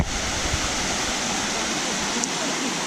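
Wang Kan Lueang waterfall in Lopburi during the rainy season, heard as a steady, broadband rush of falling water that stays constant from start to end.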